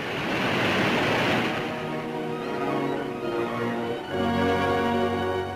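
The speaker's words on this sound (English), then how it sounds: "for the first time the spillways begin to flow" Water roars over the Columbia River dam spillways in a broad, continuous rush, with a tonal hum rising beneath it in an old newsreel recording.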